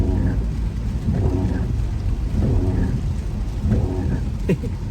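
Steady rain falls with a broad hiss and low rumble, the loud wash continuing without a break throughout.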